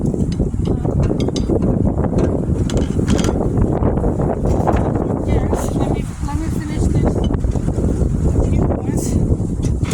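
Heavy wind buffets the microphone with a constant low rumble, while a person speaks briefly over it.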